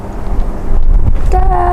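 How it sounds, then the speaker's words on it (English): Gusty wind rumbles and buffets the microphone in low, steady bursts, with a voice starting to speak near the end. "It's windy."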